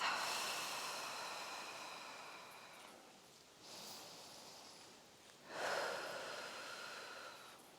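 During a Pilates stretch, slow deep breaths sound close and faint: a long exhale, then two more drawn breaths in and out, with no talking.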